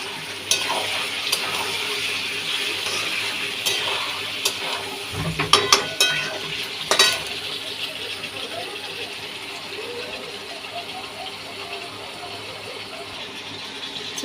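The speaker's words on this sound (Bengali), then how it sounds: "চিকেনটা ভালো করে ভাজা হবে" Chicken pieces frying in a pan for chicken kosha with potatoes, a steady close hiss of sizzling oil with a cluster of sharper clatters and pops partway through.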